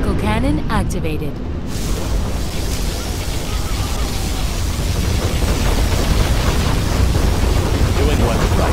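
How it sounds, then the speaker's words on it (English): Particle cannon from the C&C Generals game firing in battle: a loud, sustained roaring broadband blast that fills the clip, briefly preceded by a short burst of game voice chatter. "Particle cannon activated."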